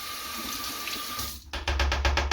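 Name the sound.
tap water running, rinsing soap off makeup brushes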